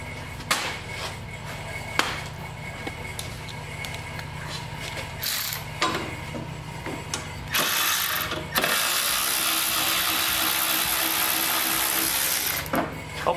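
A ratchet works on the cylinder head bolts of a snowblower engine, producing steady rapid clicking in repeated strokes. A louder continuous hiss or blowing noise takes over in the second half.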